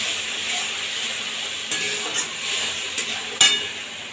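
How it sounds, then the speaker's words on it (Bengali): Bottle gourd with turmeric, salt and spices sautéing in a pan, a steady close sizzle broken by a few sharp clinks and scrapes of a utensil stirring against the metal. "বেশ ভালোভাবে এটাকে কষাবো।"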